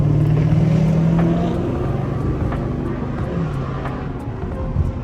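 A car engine drones steadily through a cruising drive, a loud, continuous rumble that eases slightly after the first second, with no talking.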